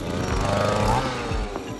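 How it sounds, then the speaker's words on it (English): A motorized drill bores small rock cores out of granite in the field, making a loud, steady grinding roar with a rough mechanical rattle that holds throughout. "We're drilling these little rock cores, taking them out, and then sending them off later onto the lab to be dated."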